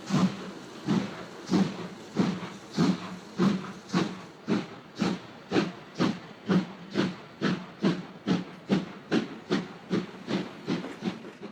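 A train from Cluj running into Razvoien station, its steady rhythmic pulsing beats repeating about twice a second at moderate distance, evenly spaced and slowly easing, with no voices.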